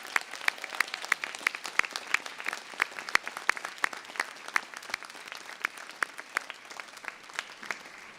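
Applause from friends and family at a university graduation ceremony, a fairly soft, sparse clapping with distinct individual claps standing out in an irregular patter, heard from a distance in a large hall.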